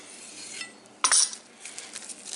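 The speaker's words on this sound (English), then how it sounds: "I usually start with the cucumber and then the onion, just because it's the least messy. Cut the ends off." A knife chops the ends off a cucumber on a cutting board while making a Canadian-style Greek salad, giving one sharp, close cut partway through, then a few lighter taps and handling clicks.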